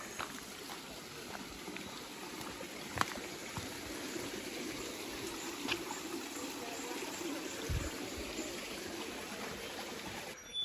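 A small river in a steep Costa Rican cloud forest flows with a continuous, even rush of water, close and fairly loud, with faint scattered clicks and knocks along a trail.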